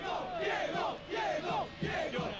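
A football stadium crowd of 90,000 in Naples roars and chants in rising and falling waves, a loud massed sound swelling in three bursts across the stretch.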